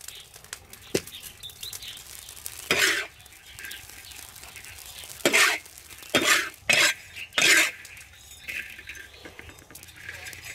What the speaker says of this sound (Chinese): 我们小火加入牛肉丝